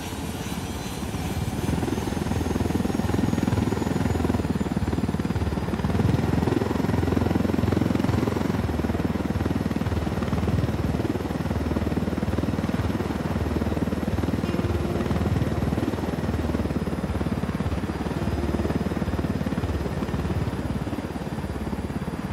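A helicopter flies in the Ghost Recon Wildlands video game, its rotor and engine making a steady, loud, unbroken drone throughout, with no talk over it.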